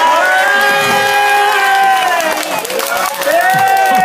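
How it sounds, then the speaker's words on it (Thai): A gathered crowd of Red USA supporters welcomes a phone-in guest with loud cheering and clapping, many raised voices whooping and shouting together up close, with a brief dip before swelling again. "ขอเสียงปรบมือต้อนรับท่านครับ"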